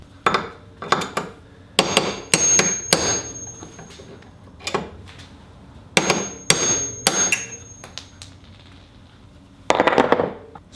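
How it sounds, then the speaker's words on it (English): Sharp metal hammer strikes on a punch driving spacers out of a KTM upper shock bearing, coming in quick clusters of two to four ringing blows separated by short pauses, loud and close with no talking. "You can either use a screwdriver, or in my case I'm just gonna use a punch."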